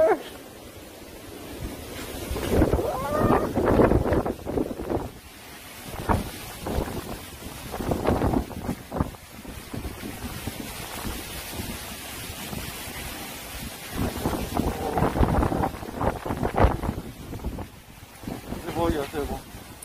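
Strong typhoon wind buffets the microphone outdoors in loud, irregular rumbling gusts that swell and ease over twenty seconds, with someone speaking now and then beneath the roar.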